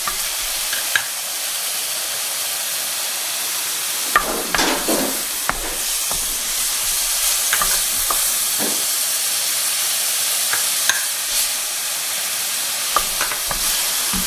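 Chopped garlic cloves fry in a pan with a continuous close sizzle and hiss, broken by several sharp scraping and clinking stirs; no one speaks.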